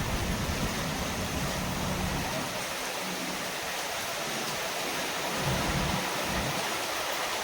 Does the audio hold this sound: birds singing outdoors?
no